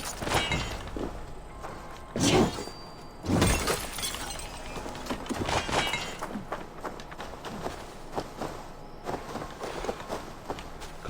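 Ore being mined in Assassin's Creed Valhalla: a series of sharp shattering, crunching strikes on rock, two loud impacts early and then lighter clinks and footsteps as the character moves around, with game ambience underneath.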